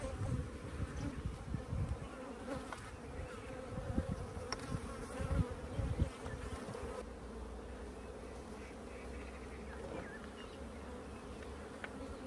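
Honey bees and drones swarm over a frame of hive comb, their dense buzzing close and continuous, steady in level with slight swells and no voices.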